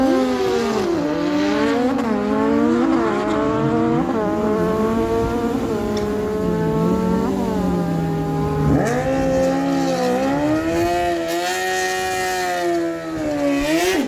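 A 2001 Kawasaki and a Yamaha FZ09 launch side by side at a dragstrip, engines screaming up through rising, stepped gear changes, loud and sustained with a brief dip near the end.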